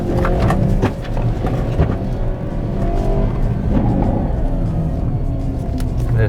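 A Hyundai Veloster N with an 8-speed dual-clutch gearbox accelerates on a track, its engine a loud close rumble that rises through first and second gear with shifts in between.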